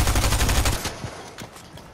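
Rapid SMG gunfire in a video game, a loud close burst of evenly spaced shots that cuts off and leaves a couple of faint trailing pops.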